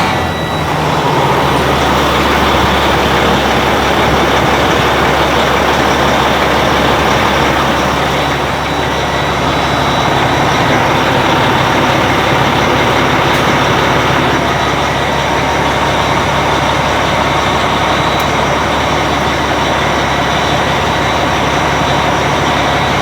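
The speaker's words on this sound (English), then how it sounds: "I'm going to go ahead and start the truck" A semi truck's heavy diesel engine cranks over and settles into a loud, steady low rumbling idle that continues unbroken, close up and with no talk.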